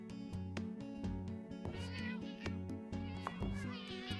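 Cats in the management game Cat Cafe Manager meow several times over a steady, tuneful background music loop, the meows fairly soft and close.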